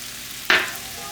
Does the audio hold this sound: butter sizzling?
yes